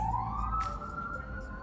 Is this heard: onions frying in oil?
no